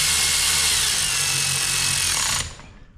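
A power tool whirs loudly and steadily while tightening transmission bolts on a Ford Focus with a 4F27E automatic gearbox, then cuts off abruptly and spins down into quiet.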